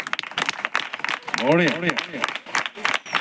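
A church congregation claps in a rapid, irregular patter, and a voice briefly calls out over the clapping partway through.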